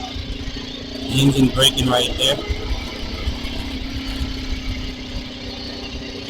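A Suzuki TL1000R big-twin motorcycle engine-braking produces a low, steady engine drone with a brief louder, rising burst early on, while a rider talks over it briefly.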